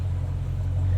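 A 2019 Dodge Challenger R/T Scat Pack Widebody gives a brief, steady, deep engine rumble, close and even throughout, with no voices.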